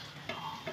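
Prawn pakoras frying crisp in hot oil, a steady close sizzle with soft bubbling and two brief louder spits, no voices over it.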